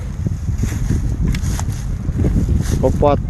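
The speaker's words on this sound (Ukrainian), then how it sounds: "Вітряно дуже у нас сьогодні." Gusty wind buffets the microphone in low rumbling bursts, with a few brief rattles and someone speaking nearby.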